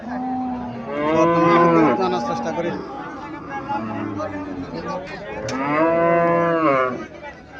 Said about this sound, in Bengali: এখানে একটা ইন্ডিয়ান হরিয়ানা জাতের গাভী দেখা যাচ্ছে।